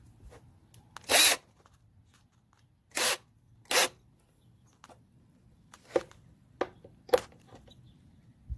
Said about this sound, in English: And then I'm going to drill it the rest of the way.